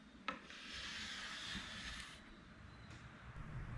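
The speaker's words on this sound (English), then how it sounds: "After the QCS has sat for about 30 minutes, I remove it by using my scraper." Scraper drawn across a rosewood tabletop, lifting softened old finish in a steady broadband rasping rub that lasts throughout, close and moderately quiet with one sharp tap near the start.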